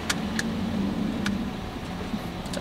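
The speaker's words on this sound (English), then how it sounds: "Someone pulled up beside me so you can probably hear the car." A car pulls up beside a parked car in a store parking lot, a steady low engine hum with a few faint clicks or taps over it, close by and moderate in level.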